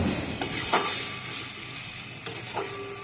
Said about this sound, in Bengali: জল ছাড়াই সবজিগুলো সুন্দর ভাজা ভাজা হয়েছে, সেদ্ধও হয়ে গেছে।